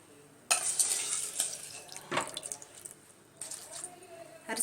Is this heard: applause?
no